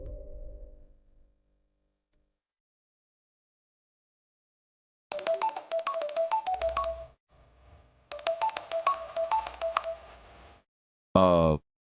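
Two runs of rapid electronic keypad tones, each series of beeps clear and close, separated by a short pause, followed by a brief tone.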